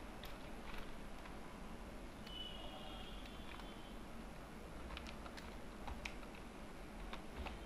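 Keys tapped on a computer keyboard while entering text in Microsoft Word 2007, sparse light clicks spread over a steady background hiss, fairly faint and close.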